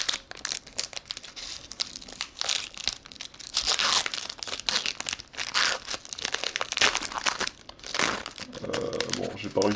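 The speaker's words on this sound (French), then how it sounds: "j'ai pas réussi l'ouverture correctement du booster" A Pokémon booster pack featuring Venusaur and Celebi is torn and crinkled open by hand, with dense, continuous foil crackling, ripping and crumpling close to the microphone, heard alone.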